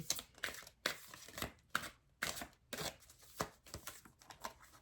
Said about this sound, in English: These cards are kind of big, so it's kind of hard for me to shuffle them.